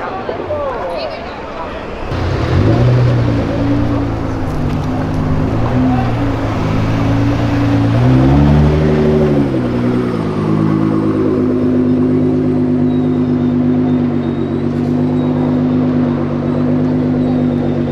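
A sports car with its original exhaust idles and then revs on Avenida Europa, a deep, loud, close rumble that swells and falls midway, with people talking nearby.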